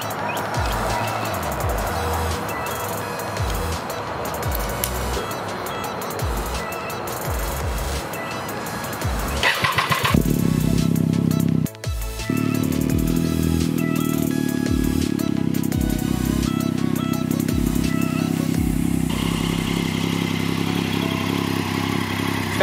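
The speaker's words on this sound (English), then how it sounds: "Let me start it up for you guys." A 2009 Triumph Street Triple motorcycle engine cranks and fires up about halfway through, then settles into a loud, steady close idle, with quieter handling noises before the start.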